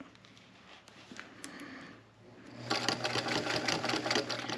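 A sewing machine stitches across a seam on a child's coloring bag, starting with slow, uneven needle thumps and then speeding into a rapid, steady run close by.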